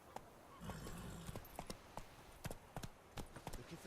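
Galloping horse hooves in The Witcher 3 video game, a steady run of sharp clip-clop beats that stays close and fairly loud for the whole stretch, with no voices over it.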